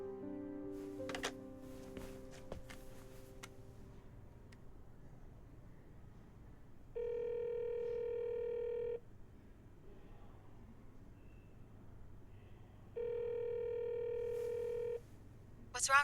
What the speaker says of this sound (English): I'll call her cell phone.